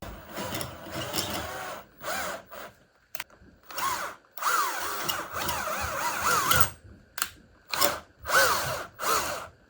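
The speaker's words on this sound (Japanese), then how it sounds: "今埋まってるワッシャーをドリルで大きく開けていきます。" A power drill runs in repeated stop-start bursts, its whining motor rising and dipping in pitch as it bores out a metal washer embedded in a guitar neck, close by and loud.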